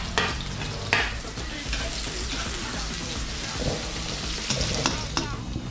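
Onions and garlic sauté in hot oil in a pan, giving a continuous crackling sizzle with a few sharp pops and faint stirring scrapes, close and steady with no talking.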